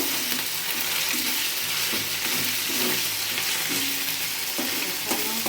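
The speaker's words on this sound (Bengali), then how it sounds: "মশলাটা কষিয়ে নেব।" Spice masala for a gourd and puti fish curry frying in a pan, a continuous loud sizzle with the scrape and clatter of a spatula stirring rhythmically through it, close up and without voices.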